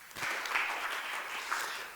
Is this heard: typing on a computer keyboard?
no